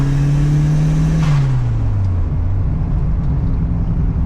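A 1.3-litre turbocharged VW Golf 2 engine held at a loud, steady rev, then its pitch sliding down as the revs fall and settle into a lower drone, close and continuous with no talk.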